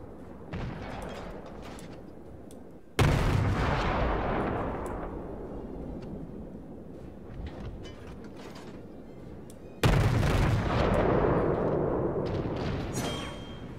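The Yubari cruiser in World of Warships fires armor-piercing shells in two heavy salvos several seconds apart. Each blast is sharp and booming, followed by a long rolling rumble that fades slowly beneath faint mechanical clatter.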